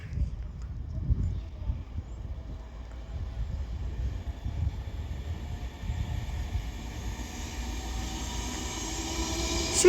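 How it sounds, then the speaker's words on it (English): An Avanti West Coast Class 390 Pendolino electric train rolls slowly through a main-line station, giving a steady low rumble with faint high whine that builds toward the end as it picks up pace. "Now getting ready to come through is going to be another Avanti West Coast Class 390 Pendolino"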